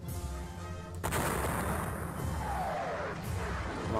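Infantry squares fire in a Napoleonic wargame on the Auerstedt battlefield, a sharp crack of musketry followed by a rolling, rumbling volley.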